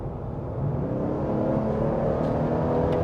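A 2026 Ford Explorer Tremor accelerates at half throttle, its engine holding a steady, loud drone with road and wind noise throughout, no voices.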